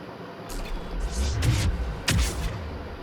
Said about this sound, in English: And then hit him with a blast grenade.